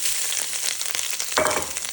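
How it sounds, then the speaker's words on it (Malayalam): Grated coconut frying in coconut oil, a loud, dense, continuous sizzle that swells as it is stirred, with no voices. "ഇനി നമ്മുടെ തേങ്ങ ഇതിനകത്തേക്ക് ഇട്ട് കൊടുക്കാം."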